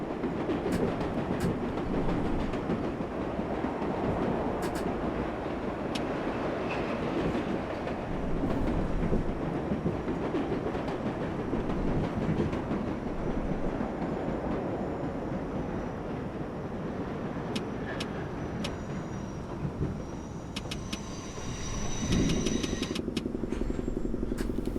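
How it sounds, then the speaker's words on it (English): A New York subway number 7 local train runs in World of Subways 4 near Times Square, Manhattan: a steady, close rumble of wheels and motor with faint rail clatter, some high squeals near the end, and no voices. "This is the number 7 local train in Times Square, Manhattan."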